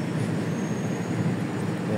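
Lodaya passenger train, Bandung to Solo service, at Klaten station, heard as a steady low rumble with broadband rolling noise throughout, fairly close and continuous, with a faint high whine above.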